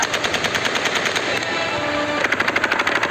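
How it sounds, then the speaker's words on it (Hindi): Rapid automatic gunfire rattles in long, dense bursts at Kabul airport during the Taliban takeover of Afghanistan. It is loud and continuous, with a brief change in texture partway through and tighter, more distinct shots at the end. "गोलियों की तड़तड़ाहट को सुनिए और देखिए काबुल एयरपोर्ट पर कैसी भगदड़ मची है"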